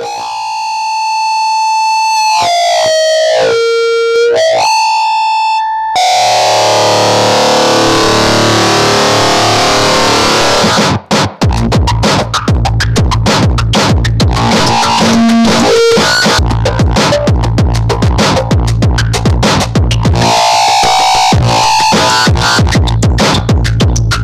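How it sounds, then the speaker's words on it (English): Analog feedback howls through a guitar distortion pedal under MIDI control, starting as shifting tonal squeals, then bursting into a loud, dense, stuttering roar full of rapid cut-outs and swells that runs continuously to the end. "with the knobs, I can bring in the feedback and modulate it."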